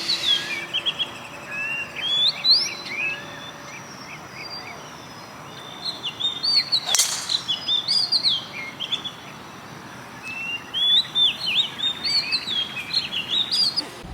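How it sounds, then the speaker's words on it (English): Birds chirping on a golf course, bright repeated tweets and calls from several birds in uneven bursts, fairly close, with one sharp knock partway through and no talking. "The birds are chirping,"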